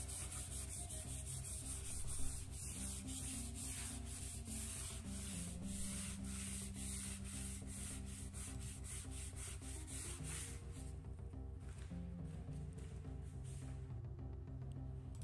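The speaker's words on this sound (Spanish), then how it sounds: "Ahora ya estamos haciendo lo que es lijando el... lo que es la pared." Sandpaper is rubbed by hand over a wall to take off residue, a continuous close scratchy rasp of steady rhythmic strokes with no talking.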